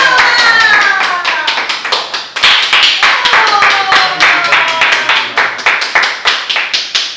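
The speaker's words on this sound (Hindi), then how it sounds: "तालियां बजाकर हम उनका इस्तकबाल करते हैं" A studio audience on a comedy talk show claps to welcome an arriving guest: loud, dense, close applause that runs steadily throughout, with a faint tonal layer underneath.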